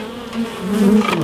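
Honey bees buzz around hive frames during oilseed rape honey extraction, a close, steady droning hum that swells slightly louder toward the end.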